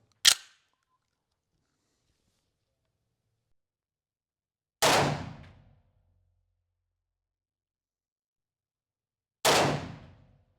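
A Desert Eagle .44 Magnum pistol fires at a target 20 yards away, sounding three sharp, loud reports spaced about five seconds apart, each decaying quickly into silence.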